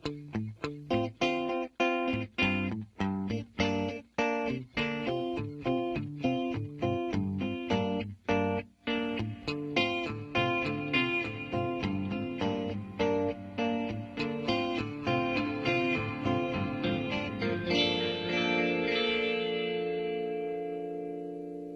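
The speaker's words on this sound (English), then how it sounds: "the echoes will be ping-ponging back and forth between the 2 amps" Electric guitar played through a stereo ping-pong echo pedal feeding two amps, a run of plucked notes and chords with repeats bouncing back and forth, building into a dense, sustained wash of echoes that slowly fades.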